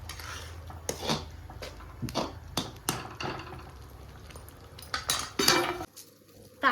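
A spoon stirs the tempering for a tomato pickle in a metal pan with the heat switched off, giving repeated sharp clinks and scrapes in an uneven rhythm, close and fairly loud.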